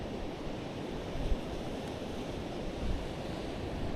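Ocean waves washing onto the shore at Navarre Beach near the pier on a quiet November day, a steady low broadband surge with slight swells and some wind rumble, no voices.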